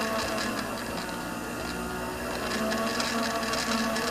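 An electric mixer whipping cream at medium speed toward soft peaks, a steady, moderately loud mechanical whir with a constant hum that runs unbroken throughout.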